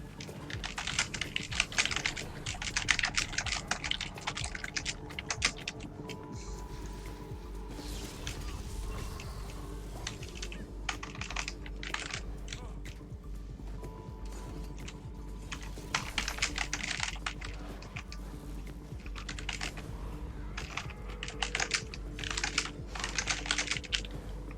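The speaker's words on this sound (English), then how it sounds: "I'm just typing" Typing on a computer keyboard during a 1v1 game tournament, a steady run of quick close clicks and key taps with brief pauses, fairly quiet and without talk.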